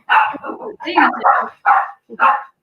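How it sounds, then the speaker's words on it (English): A dog barks about four times in quick bursts, loud and close, with short gaps between them; a voice may be mixed in. "Dog barking"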